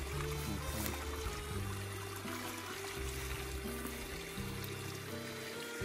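A tiny river flowing through thorny ground on a coastal walk near Foreland lighthouse in the UK, a steady close trickle and stream of water with no talk.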